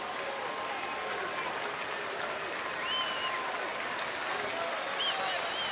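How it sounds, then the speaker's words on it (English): Large baseball stadium crowd at an Astros–Rangers night game cheering and applauding in a steady, dense roar with faint whistles, no words distinct. "A large crowd out here on HOU Darvish bobblehead night."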